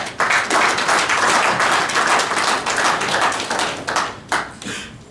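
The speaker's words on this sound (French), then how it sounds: "Je voudrais qu'on applaudisse très sincèrement." Warm applause from a seated audience at a conference of cultural managers and artists, a dense clapping that holds strong for several seconds and then thins to scattered claps.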